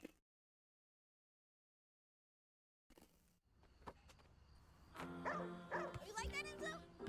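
After a silent gap, Enzo the dog lets out a few yipping barks. They blend with a person's excited talking and busy background sounds indoors.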